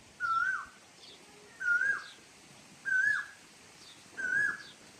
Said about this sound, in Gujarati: બહુ કોયલ બોલે કોયલ સાંભળો